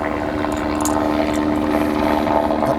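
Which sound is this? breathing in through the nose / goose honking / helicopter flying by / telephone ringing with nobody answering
helicopter flying by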